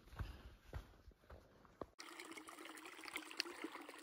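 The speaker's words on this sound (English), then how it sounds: "The water source of the campground, a little weak in this time of year" Thin trickle of a campground water source in Banff National Park near Elk Lake, running weakly late in the season; soft steady water flow, faint and close, with a few louder splashy moments.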